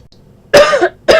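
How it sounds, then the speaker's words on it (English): Two harsh coughs from one person, close and loud, the first a longer rasping burst, the second short, separated by a brief quiet gap with no talking. "sorry, I'm coughing a lot."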